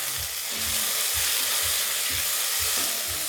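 Beef and vegetable fried rice with yellow and red peppers sizzles steadily in a pot, with soft rhythmic scraping thumps as it is stirred.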